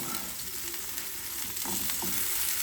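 Ground beef sizzles and fries steadily in a pan, a constant hissing crackle with a few soft stirring bumps, close and moderately loud with no voices.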